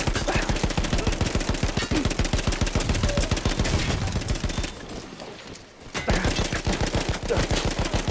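Rapid automatic gunfire from a gunfight in the video game Battlefield 1, with loud, dense bursts of shots that continue almost without pause, broken by a short quieter gap before the firing resumes just as hard.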